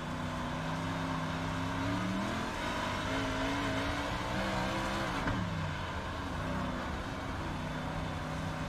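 Big Block Modified race cars racing at Cedar Lake, a dense, continuous roar of several engines with rising and falling revving tones as cars pass close by, no talk.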